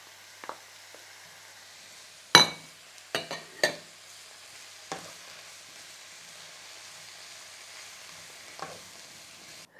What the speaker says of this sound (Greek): Στο ίδιο τηγάνι σοτάρουμε τα μανιτάρια